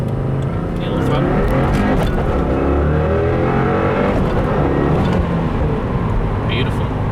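A 2015 Subaru WRX running an E30 ethanol tune revs hard through a full-throttle pull from first gear, its engine note loud, close and sustained, rising and falling across shifts for several seconds.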